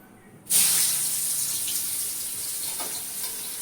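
Onions tipped into hot oil burst into a loud, sudden sizzle that stays strong and steady, hissing close up for several seconds with no talking.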